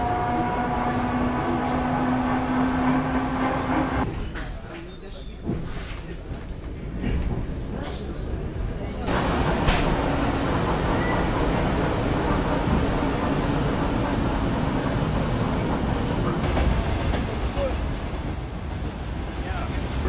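Steady, loud rumble of a passenger train travelling from Jurmala to Riga, continuous and close throughout, with a humming tone early on, a brief dip in the noise partway through, and faint squeals and rattles over the running noise.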